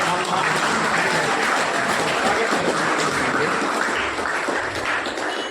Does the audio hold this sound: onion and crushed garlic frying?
no